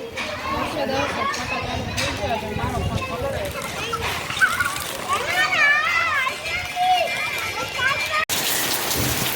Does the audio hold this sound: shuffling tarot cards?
no